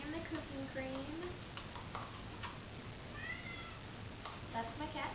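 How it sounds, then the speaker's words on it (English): Pet cat meowing in a home kitchen during cooking, a few short rising mews scattered across the clip over a steady background hum, with talk nearby. "That's my cat."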